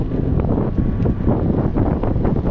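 Cold winter wind rushes steadily and loudly across a rider's microphone, a constant roar with no pauses and no voices.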